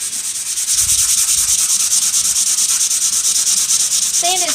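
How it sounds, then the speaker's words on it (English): Steady, loud abrasive sanding of chalk-painted furniture, a continuous hiss with a rhythmic rubbing pulse running the whole time, close up and with no talking. "sanded spots on the top."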